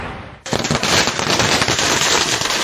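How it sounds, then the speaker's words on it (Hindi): After a brief quiet lead-in, a dense, loud rattle of firecrackers breaks out and crackles continuously, a rapid chain of bursts at a fans' street celebration outside Shah Rukh Khan's Mannat home. "पटाखों का शोर"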